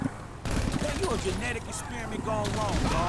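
Rapid gunfire bursts in GTA 5, loud and continuous over a few seconds, mixed with game sounds and talk from a player.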